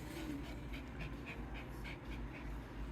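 A dog pants rapidly and rhythmically at close range after running around, quick breathy huffs repeating evenly with no talking.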